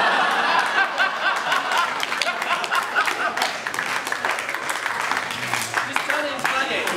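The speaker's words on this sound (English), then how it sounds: "Give a round of applause" Audience applause and scattered laughter at a juggling convention, a steady dense crackle of many hands clapping that holds for the whole stretch, with crowd chatter mixed in.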